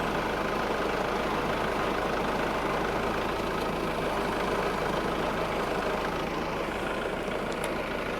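A tractor with a hydrostatic transmission reversing, its engine a steady droning hum at constant revs with no gear changes, close and continuous throughout.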